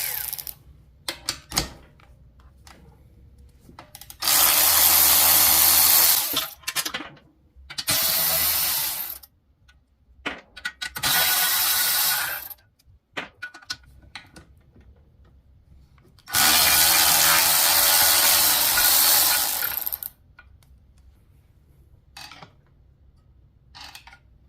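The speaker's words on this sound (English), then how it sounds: "Go ahead and take off the 10mm bolts. It's 4 of them." Ratchet wrench backing out the four 10mm bolts on a hot Honda GCV190 small engine, heard as several long bursts of rapid clicking separated by short pauses and softer handling noises, close up with no talk.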